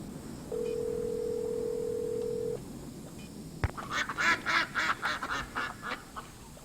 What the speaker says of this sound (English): You hear ducks.